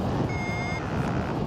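A high, steady electronic beep tone from a paragliding variometer sounds once for about half a second over constant wind rush during a World Cup task over Valadares, Brazil.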